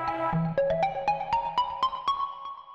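A phone call rings with a melodic ringtone: a series of bright tonal notes stepping gently upward over regular plucked pulses. It is heard alone and fades at the end.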